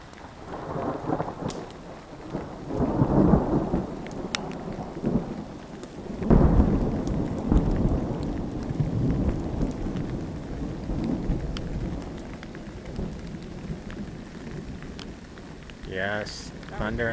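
Thunderstorm with rain at a camp in the Colorado Rockies: repeated rolling thunder rumbles, near and loud, swell and fade over steady rainfall, and a voice briefly cuts in near the end.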